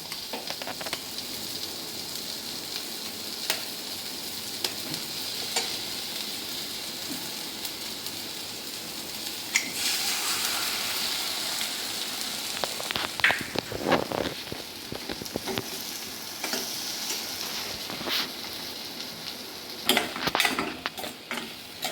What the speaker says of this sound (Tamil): ஒரு முட்டை மட்டும் இப்போ உடச்சி ஊற்றுறேங்க